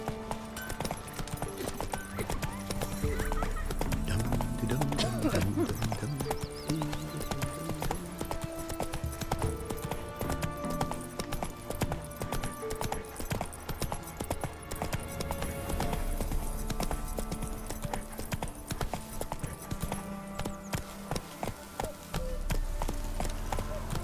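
Roach the horse's hooves clip-clop steadily at a walk in The Witcher 3, a loud close rhythmic plodding over a game music and ambience bed, with a brief whinny-like moment and no talk.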